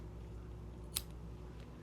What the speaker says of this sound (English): Now we're just going to cut it with your scissors.